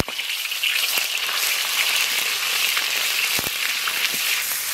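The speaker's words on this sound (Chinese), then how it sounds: "锅里留点油，先炒肉末。" Minced pork sizzling in oil in a hot wok, a steady loud crackling fry with scattered sharp pops and faint scraping throughout, no voices.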